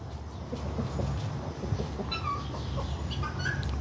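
Guinea fowl and a rooster cluck and call on a rural farm property, scattered short clucks and squawks over a steady outdoor background rumble at moderate distance.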